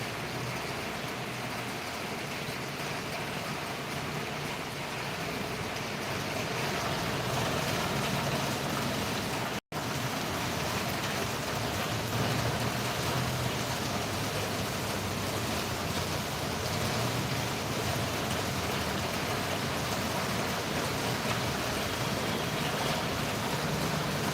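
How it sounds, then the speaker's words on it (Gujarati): Rain falls in a steady, unbroken hiss that stays even and fairly loud throughout, with a momentary dropout partway through. "ચાલો વરસાદની મજા માણીએ"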